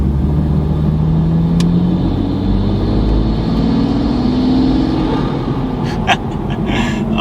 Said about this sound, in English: we are now in the car and under slow acceleration